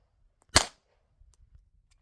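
A single sharp report from a suppressed .22 pistol firing a supersonic round, loud and close, followed by faint clinks and handling noise.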